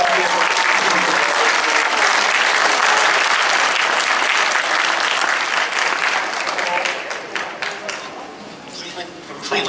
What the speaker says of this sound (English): Please continue to applaud.